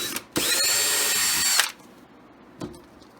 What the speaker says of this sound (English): All we're going to do is put our drill bit right on top.